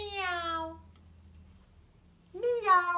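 A human voice imitates a cat meowing the German way: one long, falling meow, a short quiet gap, then a second rising-and-falling meow, both close and clear.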